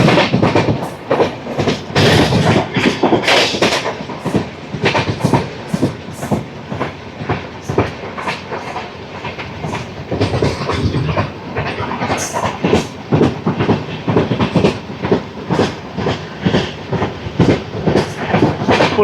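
The Padmavati superfast express (Tirupati–Secunderabad, train 12731) rolls along the rails near Pulicherla station, heard from inside a second AC coach as a loud, steady clickety-clack of wheels over rail joints with a constant rumbling hum.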